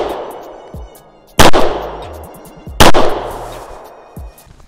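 Gunfire in a shooting video game: two loud, sharp shots about a second and a half apart, each followed by a long decaying reverberant tail, with faint background game sound and no talk.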